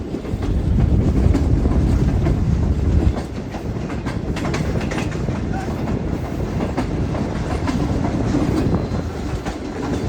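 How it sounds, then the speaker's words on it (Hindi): Awam Express passenger train, led by a GMU-30 locomotive, running on the Rohri bypass track: a loud, steady rumble with rapid clickety-clack of wheels over rail joints that eases slightly after the first few seconds. "GMU 30 NLC का लोकोमोटिव ट्रेन के लीड पर है।"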